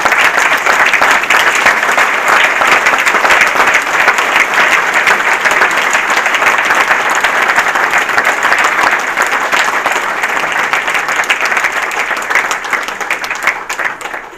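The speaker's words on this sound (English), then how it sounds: "we need a big round of applause for Bob Conover" Sustained, loud applause from a banquet crowd at a rod and gun club dinner, a thick continuous roll of clapping that holds steady and only slightly thins toward the end.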